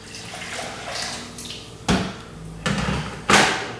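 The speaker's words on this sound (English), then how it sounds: "So what I'm going to try and do now is get this beef stock in here." Beef stock poured into a cooking pot for beef cheek, heard as three short splashing, sloshing bursts rising over quiet kitchen background noise, each louder than the last.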